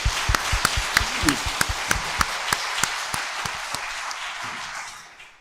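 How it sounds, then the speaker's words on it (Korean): A church congregation claps in unison during a Korean Sunday morning service, producing sharp, evenly spaced beats over a wash of applause that fades out near the end. "감사와 영광의 박수를 한번 올려드리도록 하겠습니다."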